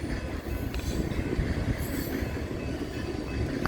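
A Norfolk Southern freight train rolls past in Fremont, Nebraska, a steady loud rumble of wheels on rails with faint squealing and clatter throughout, no voices.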